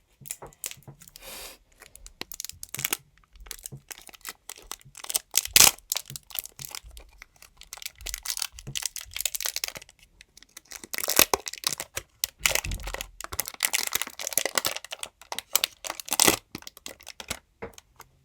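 A polymer clay package's plastic wrapper torn open and crinkled close up, irregular bursts of crackling and crumpling with short pauses, loudest near the middle and late stretches, no talk.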